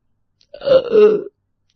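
A man gives one long, loud, close burp after eating kachoris, lasting under a second with nothing else around it.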